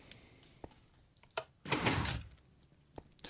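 A redstone door in the video game Minecraft: a few soft clicks and taps, then a loud, close, hissing, grinding slide lasting about a second, followed by more scattered light clicks.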